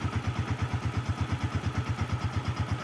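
A 2005 Honda Smash motorcycle engine idles close by, a steady low pulsing thrum with an even, rapid beat throughout and no voices.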